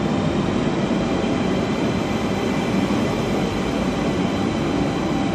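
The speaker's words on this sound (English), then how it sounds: "there's a train going out" A train departing a station rumbles past in a continuous heavy roar with faint rattling of wheels, steady and loud throughout.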